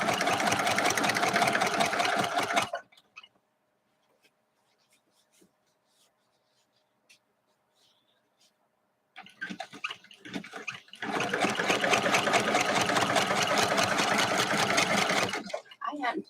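Sewing machine stitching through a 3-yard quilt, a steady dense whir running for about three seconds, then a quiet pause with soft handling, then a second longer run that resumes and holds loud and close.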